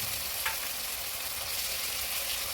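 Ginger-garlic paste frying with melted tomato and green chillies for goat-meat khichuri gives a steady close sizzle, with one faint scrape of stirring near the start and no voices.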